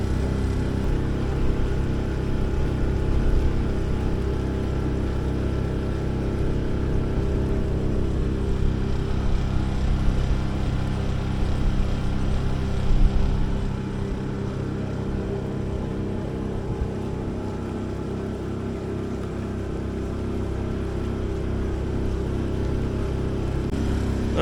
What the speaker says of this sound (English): The vehicle that is emptying the porta potties decided to do it as the klaxon sounded on the bridge